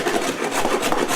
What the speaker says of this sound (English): plane across it and take off a lot of that upper layer that would take a long time to sand